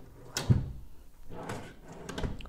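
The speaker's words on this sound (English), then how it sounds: "Now the drawer." A wooden furniture drawer in a Benin City furniture shop is slid and bumped, giving a few close, hollow knocks and scraping slides spread over a couple of seconds.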